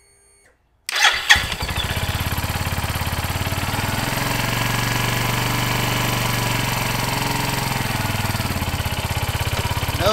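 A Suzuki TU250X motorcycle engine starts after an oil change: a brief cranking burst after near-silence, then it catches and settles into a loud, steady, rapidly pulsing idle that runs to the end.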